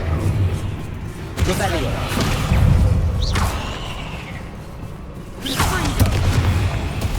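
Confringo spell explosions in the Hogwarts Legacy video game, two heavy booming blasts with rumbling tails, loud and close amid game effects, and a voice speaks briefly.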